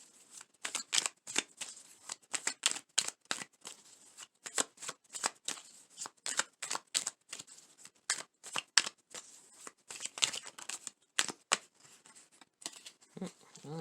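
Tarot deck being shuffled by hand, a long run of quick crisp riffling bursts and soft card slaps in an uneven rhythm, close and fairly quiet, with no talking.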